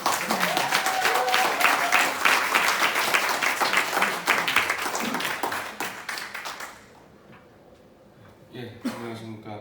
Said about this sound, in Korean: 변희재 미디어워치 대표 큰 박수로 환영해 주시기